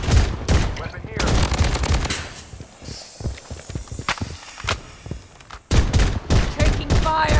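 Rapid gunfire bursts in the shooter video game BloodStrike, loud and close, with dense rattling volleys, a sparser middle stretch of single shots and footsteps, then heavy firing again.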